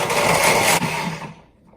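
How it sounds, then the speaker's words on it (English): Countertop blender whirring loudly as it purées a raw vegan honey Dijon mustard dressing, a steady high-pitched roar that cuts off partway through and leaves quiet afterward. "And we'll take it over to the blender. It'll be loud for a second."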